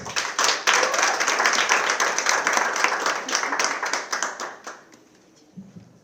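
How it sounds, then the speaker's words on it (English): An audience at a university dictionary launch event gives a round of applause. Brisk, dense clapping starts at once, holds steady and then tapers off to a few scattered claps. "A round of applause."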